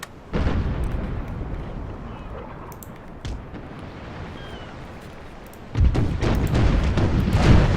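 Ship cannons firing during a naval battle in the strategy game Imperial Splendour, with a burst at the start and another volley near the end over a rumbling, dense background of booms.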